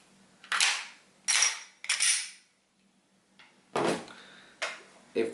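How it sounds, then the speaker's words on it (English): Sharp metallic clicks and clacks come in separated bursts as a revolver is handled and reloaded, close and crisp, with a short quiet gap partway through and no talking. "you're gonna be slow at reloading a revolver"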